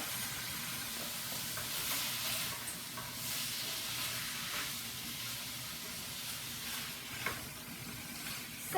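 Ground beef with red pepper sizzles steadily in a hot pan, a continuous close hiss broken now and then by the scrape of stirring.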